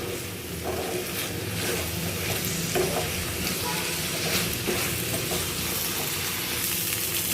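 Rice for pulao being stir-fried in a pan, a steady close sizzle with repeated scraping and stirring strokes throughout, no talking.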